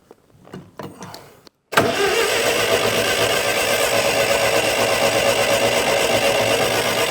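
An old ALMACO plot combine engine cranks and catches after a few quiet knocks, then runs loud and steady, its throttle worked so the revs rise and fall.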